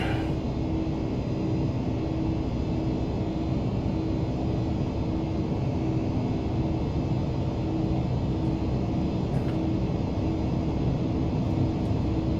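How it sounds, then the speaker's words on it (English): Boeing 767-300 freighter in a flight simulator climbing out with its landing gear retracting, a steady dense engine roar and rumble with a faint tone on top, continuous and unbroken. "And positive rate of climb, gear coming up."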